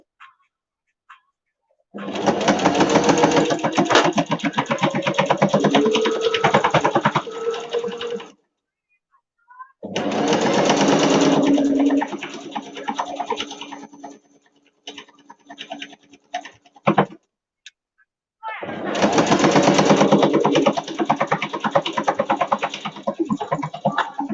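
A sewing machine stitches a children's book cushion in three long loud runs of rapid needle chatter, separated by short pauses and quieter clicks.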